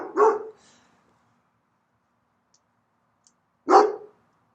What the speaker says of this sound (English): if we resist a sound, for example, dog barking while making meditation video